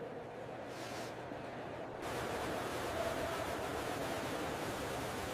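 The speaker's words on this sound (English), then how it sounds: "The water sound is very peaceful." Water rushes in a steady, soft wash, faint and continuous, growing slightly fuller partway through, with no voices.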